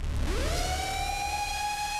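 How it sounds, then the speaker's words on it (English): An air raid siren effect built from a person humming through gritted teeth, heavily distorted and saturated, rises steeply in pitch and then holds a steady drone, loud and alone. "is just me going like gritting my teeth together and humming slightly"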